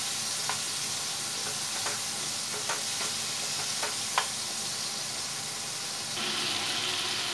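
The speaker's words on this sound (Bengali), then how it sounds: "একটু জল দিয়ে আমি মশলাটা এভাবে কষাবো।" Masala for Bengali pointed gourd and prawn curry stir-fries in a pan with a splash of water, giving a steady moderate sizzle with a few sharp spoon scrapes and clicks against the pan.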